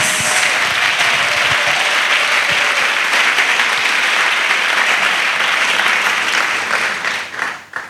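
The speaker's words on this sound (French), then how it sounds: "Clappings." A church congregation claps steadily and loudly for several seconds, a dense wash of hands from many people that holds level before trailing off into scattered claps at the end.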